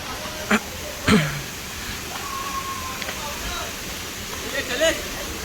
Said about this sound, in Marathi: इकडे आहे धबधबा